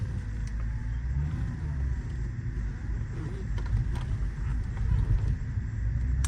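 A Mercedes-Benz CLS 55 AMG with a supercharged 476 hp engine releases its SBC brake hold and pulls away, a steady close low engine rumble with a slight rise as it moves off, no voices.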